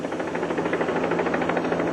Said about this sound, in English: The CHP helicopter arrived at the scene within minutes.